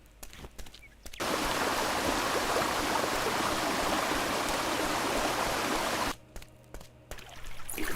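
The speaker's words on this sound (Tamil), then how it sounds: "ஏய், மாடை உடைச்சு தண்ணி வேஸ்டா போகுது" Irrigation water gushes through a broken earthen bund in a paddy field, a loud, steady rushing stream that starts abruptly after a second and stops sharply after six, with faint noises before and after.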